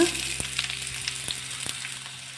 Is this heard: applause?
no